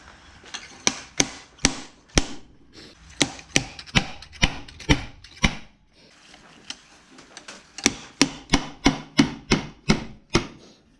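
A series of sharp metallic knocks from a slide hammer pulling a part out of a Powerglide transmission, close up, pausing briefly in the middle before a faster run of evenly spaced strikes.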